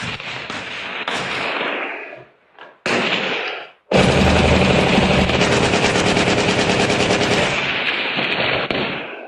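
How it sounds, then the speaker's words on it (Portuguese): Rapid bursts of automatic gunfire crackle loudly, with a brief pause and then a long sustained volley of rattling shots. "Agora os tiros, vamos lá."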